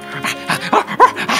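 A small dog greets its owner arriving home after work with short excited barks, yips and whimpers, close and loud, in quick uneven bursts.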